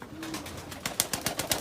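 Dutch game pigeons coo in a soft, rhythmic series of repeated low calls, close by and steady, with no talking over them.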